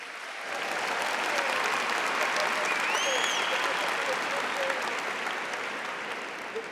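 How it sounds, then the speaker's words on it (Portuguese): A church congregation applauds steadily throughout, a thick, even wash of clapping from many hands, with some voices and cheers mingled in. "Pode aplaudir essa palavra."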